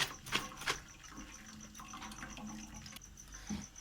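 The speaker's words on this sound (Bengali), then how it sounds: "এবার একটু ঠান্ডা জল উপর থেকে সামান্য দিয়ে দেব।" Cold water poured from above over boiled chowmein noodles in a perforated strainer, a quiet trickling and splashing with a couple of louder splashes at the start, faint and close.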